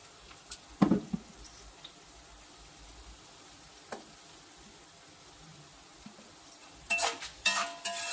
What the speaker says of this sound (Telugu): ముందుగా ధనియాలు ఎండుమిర్చి వేసుకొని సిమ్లో పెట్టుకొని బాగా ఫ్రై చేసుకుంటున్నాను.